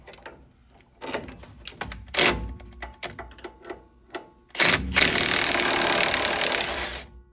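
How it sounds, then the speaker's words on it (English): Wrench work on the sway bar end links of a lifted 2004 Sierra truck: a burst of rapid ratcheting clicks, a couple of sharp metallic knocks, then a loud continuous whirring rattle from a power tool. "first thing we want to do is remove our sway bar end links"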